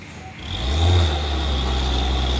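A truck struggling up the steep Bukit Kodok hill, its engine swelling to a loud low roar after a quieter start, then holding a strained drone, with a thin whine running above.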